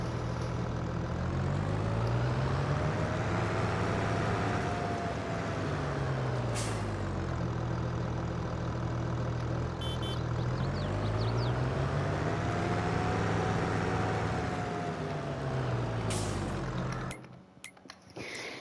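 A Kubota tractor driven in a farming video game, its engine droning steadily and loudly, pitch rising and falling in slow sweeps as it speeds up and eases off, with a couple of sharp hissing bursts before cutting off at the end.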